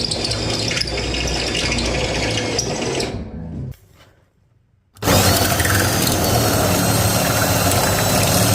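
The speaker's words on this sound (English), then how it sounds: "This is what I was drilling through the frame for," A loud power drill whirs and grinds steadily while boring a hole through the metal frame of a 1967 coupe, cuts out for about two seconds, then resumes at full strength, close by.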